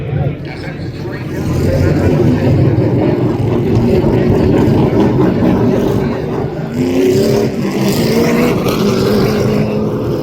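Race cars roar around the oval at Tri-County Speedway, a loud steady engine drone with rising and falling passes, heard close under continuous announcer talk.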